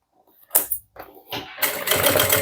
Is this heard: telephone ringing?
no